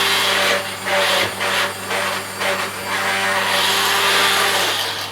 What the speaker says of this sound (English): I think it's about time I have to get myself a new whisk soon, because this one isn't sounding very good.